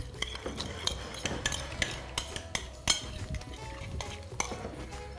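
Yogurt seasoned with salt and sugar, mixed with baking soda as it begins to react, being stirred with a spoon in a bowl: a steady run of close, light scraping strokes and clinks with no talk.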